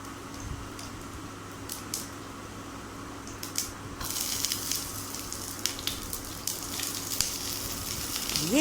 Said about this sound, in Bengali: একটু কালো জিরে আর কাঁচা লঙ্কা ফোড়ন দিলাম।